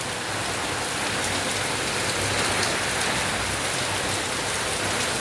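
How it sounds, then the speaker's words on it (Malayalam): Heavy summer rain pours down steadily in Kerala, a dense continuous hiss of drops on surfaces, loud and close throughout with no voices. "നല്ല മഴ, വെള്ളം പോണ കാണില്ല നിങ്ങൾ?"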